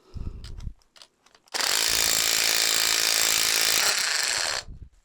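A Bosch GDR 12V-110 cordless impact driver hammers loudly and continuously for about three seconds driving a screw into wood, preceded and followed by brief handling knocks.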